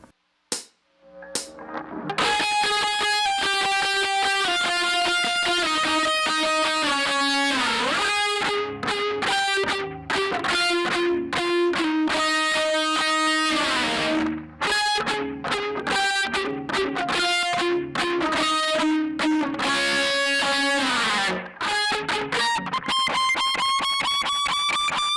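An electric guitar plays a distorted solo in sustained octaves with pedal tones, sliding between positions and up the neck, loud and continuous with no talk.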